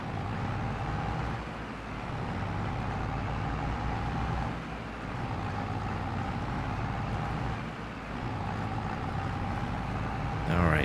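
Tractor engine in Farming Simulator 22 pulling a stump grinder up an incline, a steady low rumble and drone sustained throughout with slight surges, loud and close, briefly swelling at the end.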